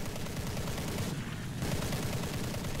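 Aircraft guns on a J2M3 Raiden fighter in War Thunder fire in a steady rapid burst, a continuous rattling stream of shots that briefly dips and then resumes, moderately faint.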